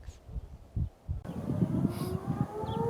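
Town civil defense siren in Tonopah sounding the noon signal, a steady distant wail rising after a quieter windy start, with faint rustling underneath.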